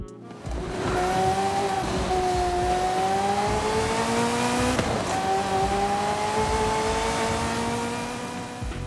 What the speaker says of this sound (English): just to hear the whine of the turbos and the scream of the engine